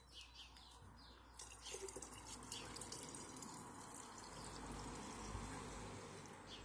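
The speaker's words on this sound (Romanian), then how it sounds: "Iar acum vom completa cu apă până sus." Water poured into a jar to top it up while making elderflower drink with honey, a continuous faint trickling fill with light splashing and no talking.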